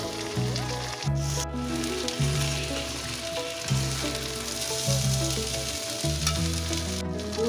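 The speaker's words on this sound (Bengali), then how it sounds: "দেখুন চালটা আমি এরকম করে ভেজেছি" Gobindobhog rice sizzles and crackles steadily in hot ghee and oil, with soft scraping stirs repeating every second or so, close and moderately quiet with no talking.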